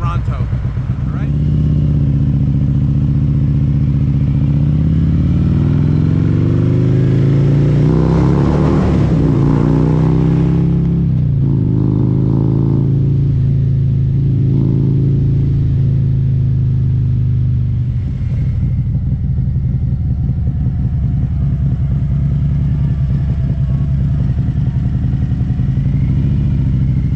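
Motorcycle engine rumbling and revving during a road trip through upstate New York, a loud continuous drone with rises and falls in pitch as the rider shifts and accelerates, with wind noise throughout.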